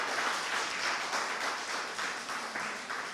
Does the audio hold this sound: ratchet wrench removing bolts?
no